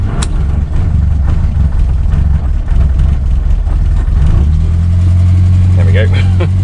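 A rusty 1967 Morris Minor daily driver runs with a bit of choke, its small engine droning loud and close with a steady low rumble that settles into a firmer idle toward the end.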